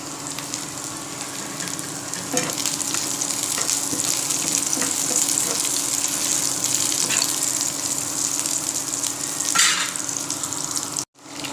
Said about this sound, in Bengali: ডিমটা ফাটিয়ে দিয়ে দিয়েছি, ডিমটা একটু ভালো করে ভাজা হোক